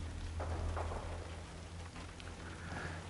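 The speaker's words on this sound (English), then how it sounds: "it's raining here as well" Steady rain falls in the video game The Last of Us Part 2, a constant soft hiss of drops on surfaces with a low background hum, no talking.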